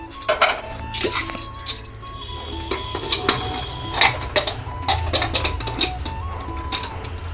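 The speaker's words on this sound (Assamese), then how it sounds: "এতিয়া ধুনীয়াকৈ কুকাৰটো খাপৰখন মাৰি দিম" Metal lid being fitted onto a pressure cooker in a home kitchen, a series of sharp metallic clinks, clacks and scrapes, close and fairly loud, with no talking.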